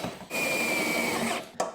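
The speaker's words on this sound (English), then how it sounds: "Number 3, here we go, starting to drill." A power drill whirs at high speed for about a second, driving a screw into a snowblower impeller paddle, then stops, followed by a brief second burst.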